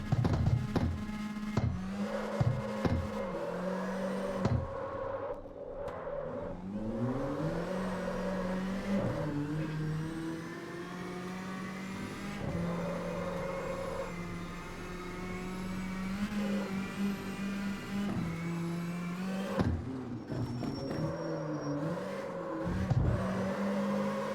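Car engine revving hard to around 9,500 RPM in CarX Street, a front-wheel-drive track build, with rising and falling pitch sweeps, gear changes and sustained high revs, loud and close with no talking.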